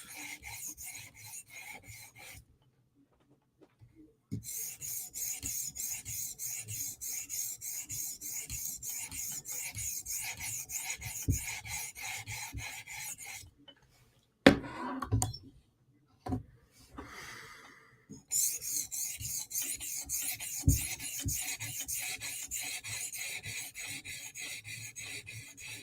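A knife edge rasps back and forth on a 400 grit stone in a TSProf Kadet guided sharpener, in steady rhythmic strokes with a couple of short pauses and a few light clicks between passes.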